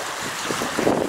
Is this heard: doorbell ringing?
no